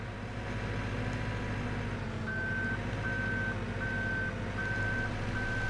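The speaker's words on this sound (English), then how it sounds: "That is actually a pretty hard thing to reverse because it's an articulated loader." Articulated loader in Farming Simulator 17 reversing, a steady high electronic beep repeating at an even pace over a constant low engine rumble, with no voices.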